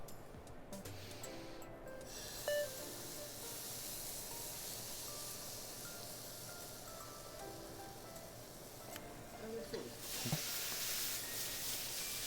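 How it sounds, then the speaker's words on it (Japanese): Ketchup sizzles in a hot frying pan with no oil, a steady hiss with a brief rise in spitting toward the end, heard close with no voices. "じゃあフライパンにケチャップを"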